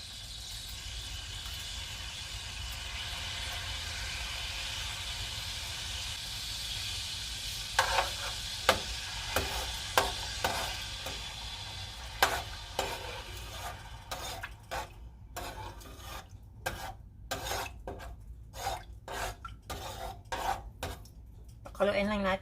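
Minced garlic sizzles in a pan for a chili garlic butter crab legs dish, a steady hiss at first, then scraping stirs and sharp clinks of a utensil against the pan come in repeated bursts.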